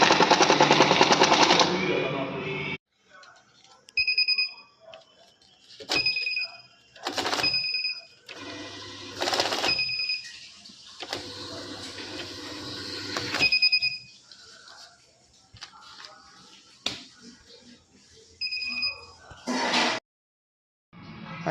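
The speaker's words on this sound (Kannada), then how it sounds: "ಈಗ ಈ ಥರ ಪ್ರಾಬ್ಲಮ್ ಬರ್ತಾಯಿದೆ, ನೋಟ್ ಆಚೆಗೆ ಫ್ಲೈ ಆಗ್ತಾಯಿದೆ" A TVS cash counting machine with stuck buttons runs in short bursts, whirring and rattling as banknotes fly out, with sharp electronic beeps between runs and quiet gaps, close and fairly loud.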